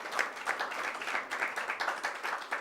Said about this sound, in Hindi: एक बार ताली बजा करके उन सभी।